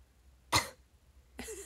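A single sharp cough, followed a moment later by a softer throaty cough or throat clearing, close by in a quiet room.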